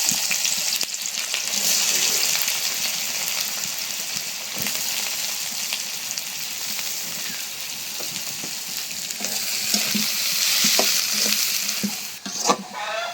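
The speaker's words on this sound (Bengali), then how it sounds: "দিয়ে দিলাম একটা তেজপাতা, দিয়ে দিলাম পেঁয়াজ," Onion and a bay leaf fry in hot oil, loud continuous sizzling with stirring scrapes and occasional sharp clinks of a spoon against the pan, no voices.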